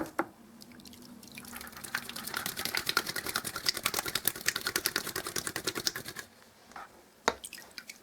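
Paint brushes being spun out after rinsing make a fast, rattling whir of flicking water and bristles that builds and runs steadily for several seconds, then stops, leaving a couple of faint knocks.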